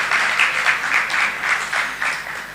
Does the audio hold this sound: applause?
yes